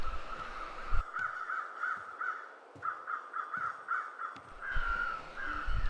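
Crows cawing in The Long Dark, a string of harsh repeated caws in uneven groups, fairly close and clear over a quiet wind-like background, with no voices.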